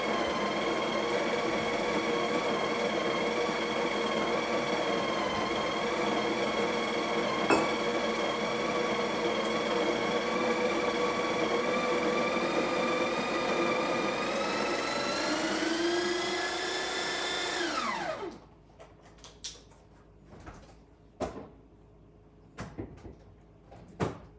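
A coffee grinder grinds beans for a cappuccino on a Breville Bambino Plus BES500, giving a steady loud whirring drone with a rising pitch before it cuts off, followed by a few scattered knocks and taps.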